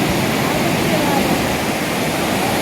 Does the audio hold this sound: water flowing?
yes